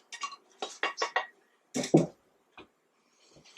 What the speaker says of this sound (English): So in go the taters.